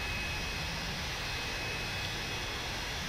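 A BAE Hawk jet engine in the Prepar3D flight simulator roars as a steady, loud, unbroken whoosh while the aircraft flies a circuit at Valley.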